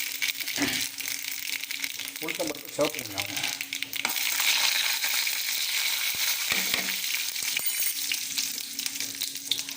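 Mustard seeds tempering in hot oil, a dense crackling sizzle that runs throughout, with a few clinks and a brief voice in the background.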